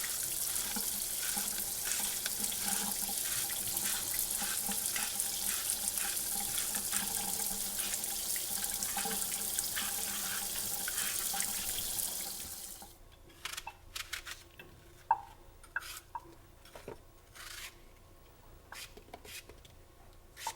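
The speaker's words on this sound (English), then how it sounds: "We're going to wash, peel, and chunk the apples." Apples being washed under a running kitchen tap, a strong continuous gush of water for about twelve seconds before it shuts off, then scattered drips, clinks and handling noises close by.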